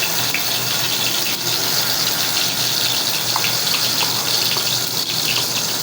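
Garlic sizzling in warm oil in a cooking pot, preparing a hilsa fish curry; a steady, loud, dense hiss of frying fills the whole stretch with no talking.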